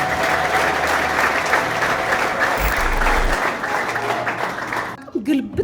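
A church congregation at a prophetic service breaks into loud, sustained applause that fills the hall, with murmuring voices mixed in before it tapers off near the end.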